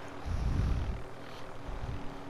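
Helicopter flying in the video game Warzone, a low rumbling rotor and engine drone that swells loudly near the start, fades, then pulses again more faintly, with no speech.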